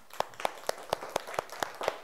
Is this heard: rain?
no